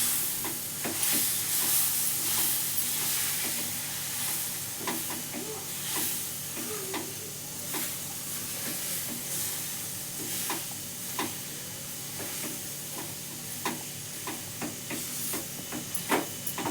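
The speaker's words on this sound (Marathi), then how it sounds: "हे बघा असं चांगलं मिक्स करायचं त्याला." Mango ladoo mixture stirred in a hot pan: a continuous sizzle and hiss with a run of light scraping strokes from the spoon, close and unbroken, with no one speaking.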